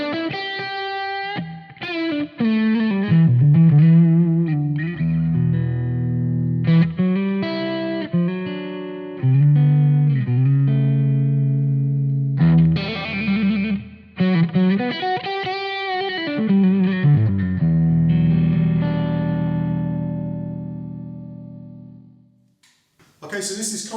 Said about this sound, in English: this is a blues breaker emulation with a bit of spring reverb on for a nice kind of vintage tone.